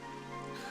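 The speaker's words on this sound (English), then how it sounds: "Of course it's raining." Steady rain pattering down in a video game, a dense, even hiss of drops that holds constant through the short moment with no voices over it.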